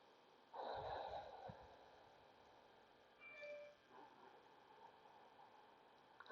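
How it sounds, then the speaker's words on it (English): A yoga instructor breathes audibly while holding a pose: a strong exhale near the start, then fainter breaths and soft movement in a quiet room, with no talking. "I'm taking a couple more breaths here."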